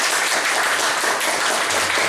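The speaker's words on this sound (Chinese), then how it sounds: "我们热烈掌声一下。" An audience at a talk event breaks into dense, continuous applause, loud and close, with many hands clapping steadily throughout.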